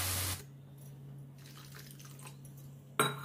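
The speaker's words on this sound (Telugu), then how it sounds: "సరిపడా నీళ్లు పోసుకోవాలి" Water poured into a pan of frying potato pieces gives a short, loud splashing hiss at the start and another burst near the end, with a steady low hum and faint sizzling between.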